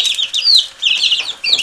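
Young chicks cheep busily inside a homemade brooder, close and fairly loud, a dense cluster of high overlapping peeps with brief gaps between bursts.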